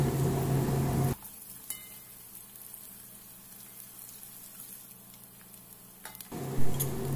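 A gentle sizzle of chopped shallots and onion sautéing in used frying oil, with a quieter stretch in the middle and a brief louder bump near the end.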